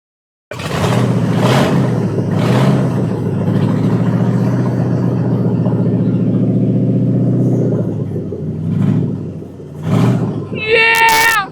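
A limousine engine runs on starting fluid, a loud, close, steady rumbling idle that dips near the end, with voices in brief bursts over it.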